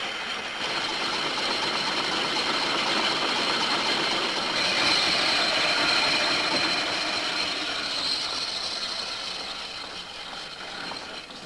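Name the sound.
one-cylinder engine running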